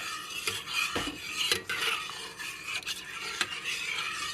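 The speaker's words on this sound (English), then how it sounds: "I'm going to stir this stuff until that shea butter melts in there" A spoon scrapes and stirs shea butter into warm sweet almond oil in a container, giving irregular close rasping strokes with sharp clinks at intervals.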